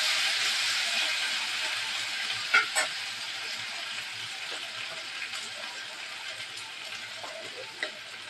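Diced potatoes frying in a pan of hot oil, a steady broadband sizzle with a few brief stirring clinks and pops, close and continuous with no talking.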